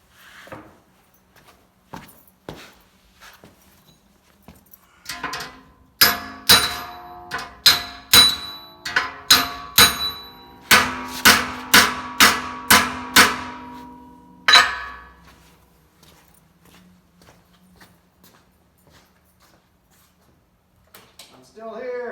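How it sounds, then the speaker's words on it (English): Sharp metallic blows from a body hammer striking the driver's door panel of a 1950 Plymouth under repair, a rapid run of about a dozen ringing strikes in the middle, with scattered lighter taps before and after. "Kind of hard on the body hammer."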